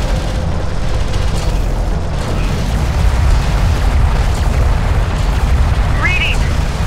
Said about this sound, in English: Immediate fire support on that position.